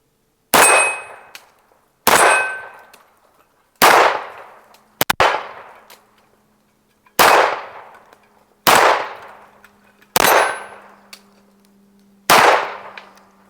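A Beretta Model 1951 pistol fires eight evenly spaced shots at steel targets about 20 yards away. Each loud crack is followed by a ringing metallic clang that fades off, with no talking.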